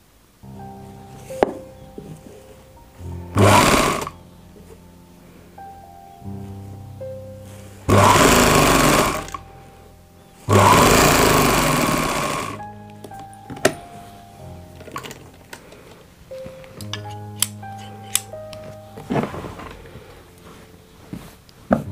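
Sewing machine stitching the cuff sleeve of a ladies' suit, running in several short bursts of a few seconds each with quiet handling sounds and pauses between them.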